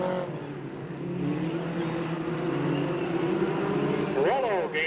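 Race cars run at Delta Speedway in 1997, their engines droning and revving with a faint rising-and-falling whine near the end, under a race commentator's continuous talk.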